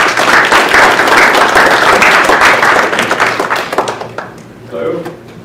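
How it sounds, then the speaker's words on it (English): A live audience gives a warm round of applause for a visiting creature and costume concept designer, loud sustained clapping with crowd noise that fades out over a few seconds, and a voice speaks briefly near the end. "everyone give a warm applause"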